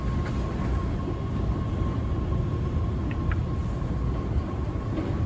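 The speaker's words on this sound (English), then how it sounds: "We're going to transfer to another train" A train runs with a steady, loud rumble and rattling that stays even throughout, with a faint high-pitched whine riding over it.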